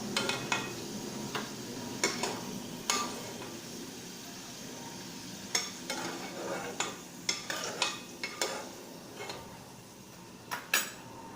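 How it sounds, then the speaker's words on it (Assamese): Fish frying in oil in a pan after potatoes, with a faint steady sizzle under repeated sharp clinks of a utensil against the pan, spaced irregularly and fairly close. "এইখিনি তেলতে মাছটো ফ্ৰাই কৰি ল'ব।"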